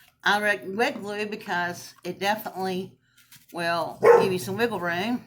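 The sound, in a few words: dog barking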